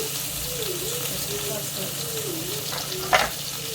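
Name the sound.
ridge gourd with masala frying in oil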